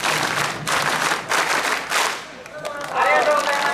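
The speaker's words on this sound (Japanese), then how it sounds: "それでは一本締めを行いたいと思います。" Crowd at the Kanda Festival at Kanda Myojin shrine performs ippon-jime ceremonial clapping with a portable-shrine association, in several short bursts of group claps, followed by voices and other festival sounds.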